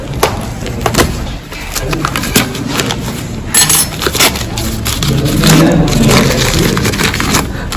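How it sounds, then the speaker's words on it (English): Packaging being torn and unwrapped from a 1-inch Princeton Hake brush, with close, busy crinkling and rustling bursts that run unevenly through the whole stretch. "So let's try and open it."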